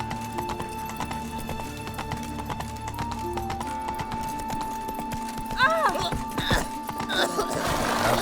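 Roach the horse walks in The Witcher 3, hooves clip-clopping in a steady rhythm under low background music, with a short whinny near the end.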